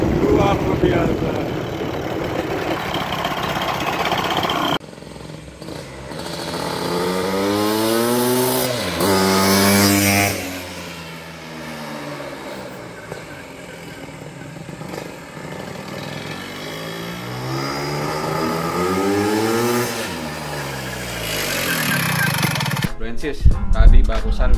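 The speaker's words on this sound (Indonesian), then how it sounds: "tadi barusan kita udah tes motor ini, Vespa ini nih, Vespa Spartan 210 nih" A Vespa Spartan 210 scooter engine revs up and down in a workshop, its rising and falling pitch sweeping through repeated throttle blips over about twenty seconds, loud and close, with people talking around it.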